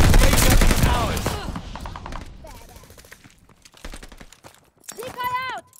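Decoy grenade in a Call of Duty match on PS5 fakes a burst of rapid gunfire, loud at first and tapering off, mixed with other game effects and announcer voices.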